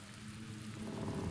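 Rain pours through a broken window in the Black Mirror game, a soft, steady hiss of patter heard up close and at low level for a moment, without voices.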